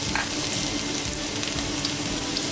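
Chopped garlic sizzling in about two tablespoons of oil in a pan for a masala gravy, a steady close crackling hiss with no gaps and no voices.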